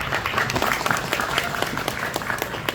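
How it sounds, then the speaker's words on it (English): An audience gives a round of applause at a talk, a dense, steady patter of many hands clapping close by for a few seconds. "let's give Tuan a round of applause too for being up here"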